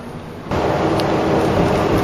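A deep, steady roar of heavy rain and rumbling thunder swells in after a quieter start and holds loud and constant.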